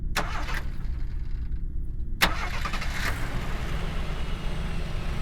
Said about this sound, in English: The engine sputtered to life.